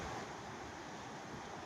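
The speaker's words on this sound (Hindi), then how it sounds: "ये जो पानी की गड़गड़ाहटें हैं" River water in Aurangabad district, where boats are out, rushes and gurgles in a steady, even wash mixed with wind noise, with no voices over it.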